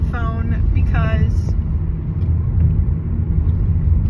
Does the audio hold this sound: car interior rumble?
yes